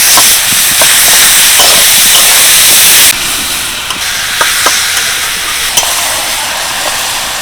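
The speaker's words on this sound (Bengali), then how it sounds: "নারকেলের সাথে গুড়টা দিয়ে বেশ কিছুক্ষণ নাড়াচাড়া করেছি" Grated coconut and sugarcane jaggery are stirred in a wok, a loud bright hiss that drops sharply in level partway through, with occasional clicks of the spoon against the pan.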